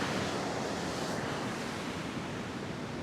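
Ocean surf washing steadily onto a fishing beach gives a continuous broad roar, loud and close, with no voices.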